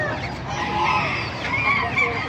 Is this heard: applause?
no